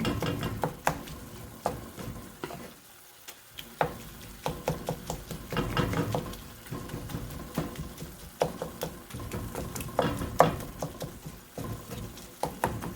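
Spicy ground beef frying in a pan, with a steady crackle and irregular patter of sizzling meat and occasional clinks of stirring, close and moderately loud, no talk.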